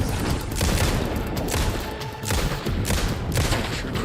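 Gunfire in Alan Wake 2's Night Springs DLC, a continuous loud barrage of overlapping shots and booms with no clear gaps, close and dense.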